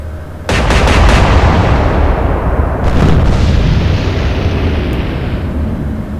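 Naval guns in the Atlantic Fleet game fire on a destroyer: an abrupt ripple of loud booms, then a sustained rumbling wash, with a second, smaller cluster of blasts a couple of seconds later and no talk.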